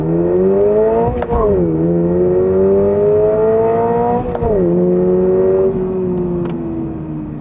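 A 2022 Subaru BRZ accelerating hard from a standstill with stability control off, engine revving loud and close, pitch climbing steadily through two quick gear changes before easing near the end.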